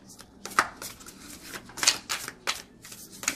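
A new oracle card deck with matte, thin card stock being shuffled by hand, giving quick papery riffles and slaps in uneven bursts, close and fairly loud with no talking.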